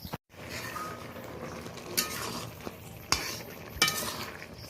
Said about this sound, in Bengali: তরকারিটা অনেকটাই হয়ে গেছে, হালকা করে নাড়াচাড়া করে নিলাম।